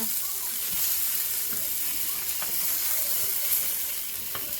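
Salmon fillets with an Asian honey glaze sizzle steadily in a pan as they are flipped back over, a dense, even frying hiss with occasional faint clicks.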